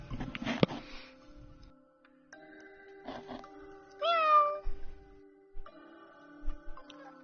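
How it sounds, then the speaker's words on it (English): A house cat gives several drawn-out meows close to the mic, one rising and more insistent than the rest, with a soft rustle or sniff at the start and quiet gaps between the calls. "Look at my cat."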